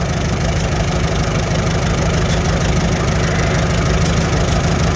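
A Farmall H tractor engine idles during carburetor adjustment, a loud, steady low chugging rumble with a fast even firing rhythm, running alone without talk.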